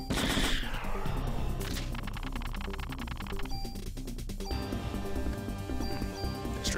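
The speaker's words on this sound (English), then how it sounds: "Looks like I'm shooting fireballs." Rapid, crackling bursts of automatic fire in the Parasite Eve game come as rattling volleys at a fast steady rhythm. Electronic tones and game music sound over them, with no talking.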